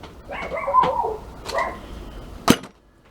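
A dog acting as a guard barks two or three times at moderate distance, followed by a sharp close knock.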